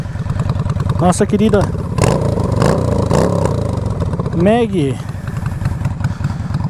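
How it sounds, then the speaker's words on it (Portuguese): A Shadow 600 SS motorcycle engine runs and revs with a low, throbbing idle that rises and falls in pitch, heard close up while someone talks over it. "Essa é a moto do canal Shadow 600 SS."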